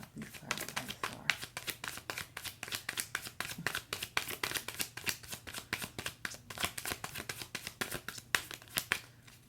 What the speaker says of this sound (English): I'm one of those people who shuffles until something falls out